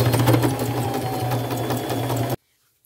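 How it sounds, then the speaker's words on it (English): A sewing machine runs steadily for about two seconds, stitching the ends of cargo jeans closed with a dense, fast mechanical chatter and hum, then stops abruptly into silence. "now I'm just going to sew these ends closed"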